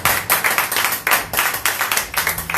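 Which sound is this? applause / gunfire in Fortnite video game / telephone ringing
applause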